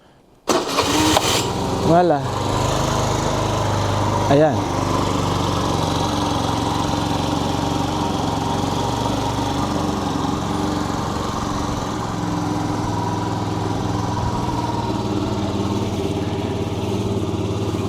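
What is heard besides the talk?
fuel-injected maxi scooter injector priming, engine starting and idling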